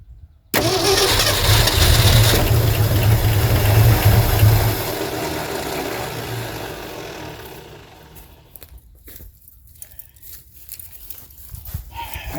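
An abandoned 1972 Ford F350 big-block pickup with a four-speed coughs to life with a sudden loud roar. It runs hard for about four seconds, then sags into a weaker, uneven idle that sputters and fades.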